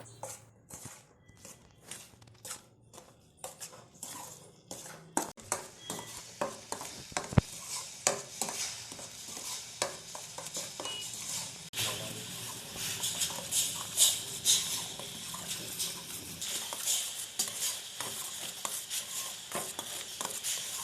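A spoon stirs a milk sweet with ground sugar and cardamom in a kadai, scraping the pan in a steady, continuous rhythm with a light sizzle and occasional clinks of metal, close and with no talking.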